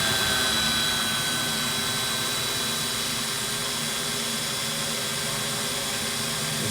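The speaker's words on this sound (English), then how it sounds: "Now I'm doing my best to drill straight into the work" A cordless drill bores into a steel workpiece with a loud, steady high whine that holds almost unchanged from start to finish, close and without pauses.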